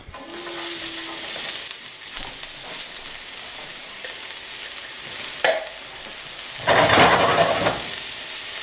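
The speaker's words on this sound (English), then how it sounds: "For the sauce, I'm adding my garlic" Garlic sizzles in a hot pan for a salmon sauce, a steady frying hiss with occasional stirring scrapes and a louder burst of sizzle near the end.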